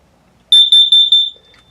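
A carbon monoxide alarm in a 2021 Flagstaff 228BHSE tent camper sounds during a test: a loud, piercing high beep pulsing rapidly about five times, then cutting off.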